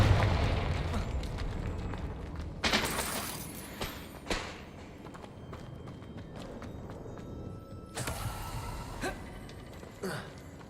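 Confringo fire spell bursts in Hogwarts Legacy, a couple of sharp blasts with crackling tails over a steady low game ambience and scattered clicks, moderately quiet and without talk.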